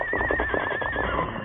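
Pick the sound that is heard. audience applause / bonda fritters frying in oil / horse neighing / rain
horse neighing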